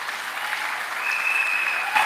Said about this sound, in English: give her mom a round of applause